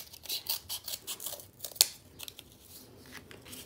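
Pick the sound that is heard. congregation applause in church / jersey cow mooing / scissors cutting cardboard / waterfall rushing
scissors cutting cardboard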